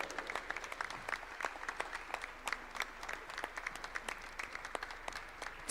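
Audience applause for the third-place winner at a coffee cocktail championship final, with steady, moderately distant clapping from a crowd running continuously throughout.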